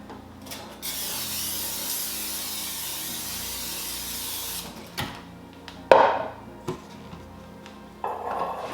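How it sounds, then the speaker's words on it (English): A long hissing spray from an aerosol can of cooking oil lasting about four seconds, followed by a few clunks and clatters as items are set down. "I'm gonna spray this with some cooking oil."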